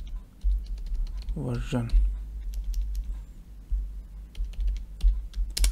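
Someone types a command on a computer keyboard, with a brief spoken word early, followed by a steady run of light, close key clicks over a low background hum.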